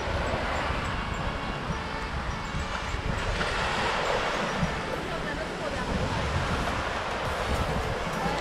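Ocean surf rolls steadily onto a beach in St Vincent, a continuous broadband wash of waves mixed with wind buffeting the microphone, unbroken for the whole stretch.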